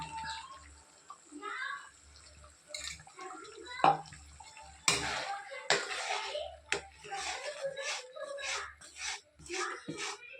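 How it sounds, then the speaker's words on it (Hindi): Hot water is poured into masala in a pan while fish curry cooks, giving a brief splashing pour followed by bubbling and sizzling, with a person talking at intervals. "एबे मु गरम पानी दे देछि मसला रे"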